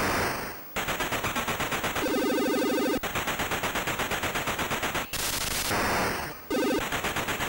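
Rapid electronic gunfire from a retro computer shooter game, a loud, dense, unbroken machine-gun rattle of buzzing bursts with brief gaps and shifting tones, with no speech.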